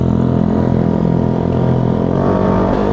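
Motorcycle engine running with a silencer-fitted exhaust muffler, a steady low droning rumble that holds close and loud throughout with no break.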